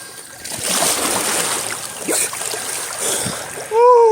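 Creek water splashing and rushing close by in an outdoor stream, a continuous wet churn with a few sharper splashes and a person's voice briefly at the end.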